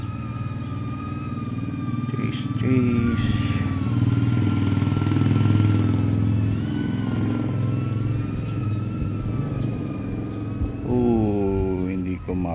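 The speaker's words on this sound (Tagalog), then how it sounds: "Ayun, tricycle ulit." A motorized tricycle engine passes by, a steady droning hum that swells and fades, under a high whining tone and a person talking.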